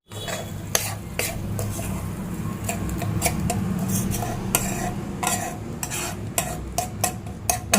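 Spiced masala is mixed into mashed potatoes with a spoon in a metal pot or bowl, producing close, irregular clinks and scraping knocks over a soft mushy stirring bed, with no talking.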